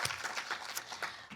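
Audience clapping at an awards show, soft and somewhat distant, a scattered patter of hands for a brief moment.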